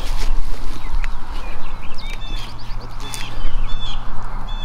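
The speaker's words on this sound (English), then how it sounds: "Birds are up here in front of us in this cornfield." Wild turkeys call from a cornfield beyond a hill, faint chirping and clucking notes scattered over loud outdoor wind noise and a low steady rumble.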